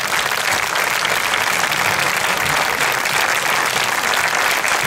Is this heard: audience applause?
yes